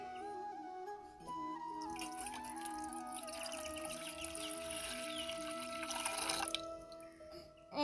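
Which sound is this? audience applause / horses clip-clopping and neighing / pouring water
pouring water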